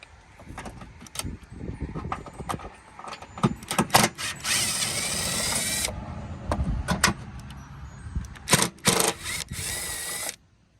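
A power tool drives the screws out of the front bumper on a BF Ford Falcon XR6, whirring in repeated bursts of varying length separated by short pauses, loud and close, with no talking.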